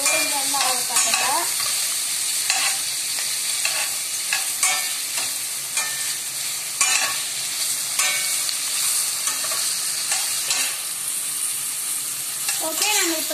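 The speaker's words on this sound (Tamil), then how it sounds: "இப்போ நம்ம ஹாஃப் தக்காளியும் அப்புறம் ஒரு பச்சை மிளகாயும் போட்டுக்கலாம்" Onion, tomato and green chili sautéing in a pan for Tamil mutton kuzhambu, with steady loud sizzling and frying hiss plus repeated scraping stirs of a spoon throughout.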